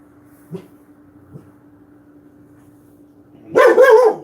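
A dog barks in a burst of several loud, close barks at the end, after two faint yips earlier over a low steady hum.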